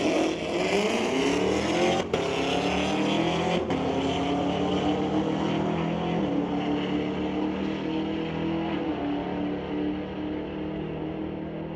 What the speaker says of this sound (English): That's some noise right there from the Camaro over here at Tower side.